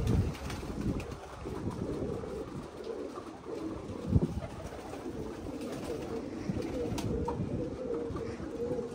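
Red pigeons coo softly amid rustling and wind noise, with faint murmuring voices in the background.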